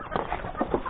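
Chickens clucking in a rural yard, several short soft clucks in an uneven rhythm at moderate distance, fairly quiet with light background noise.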